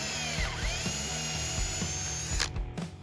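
A power drill recesses bolt holes in an old metal lamppost, whining steadily and loudly up close, with several short bursts and changes in pitch as the bit bites, no voices.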